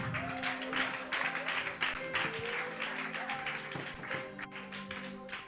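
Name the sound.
audience applause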